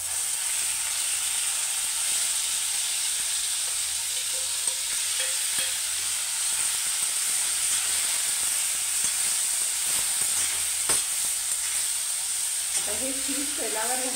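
Fish pieces frying in hot oil in a pan for fish curry give a steady, close sizzle and hiss that runs throughout, with faint stirring clinks and a brief bubbling rise near the end.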